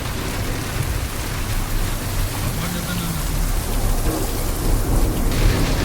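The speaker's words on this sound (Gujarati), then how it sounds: "ધોધમાર વરસાદ ચાલુ છે." A heavy downpour with thunder falls near the Shamlaji temple in Gujarat, where water is pooling on the roads. The rain gives a constant loud hiss, with a low rumble underneath.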